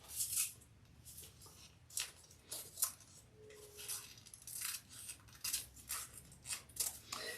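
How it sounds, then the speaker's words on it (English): Scissors snip through excess lining material while a compact leather clutch wallet is being made, a series of quiet close crisp cuts in an irregular rhythm with short pauses between them. "But we are going to trim off all this excess back here."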